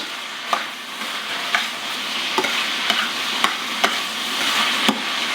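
Shrimp pasta with tomatoes and fresh thyme tossed in a hot pan, a steady sizzle broken by a few sharp scraping clacks at irregular intervals, close and alone.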